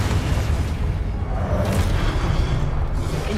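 A Confringo blasting spell bursts in Hogwarts Legacy, a heavy booming explosion with a rushing whoosh that rolls on as a dense, loud rumble for several seconds.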